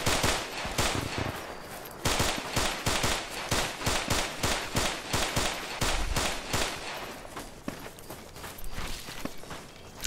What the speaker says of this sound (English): Receiving fire, accurate fire.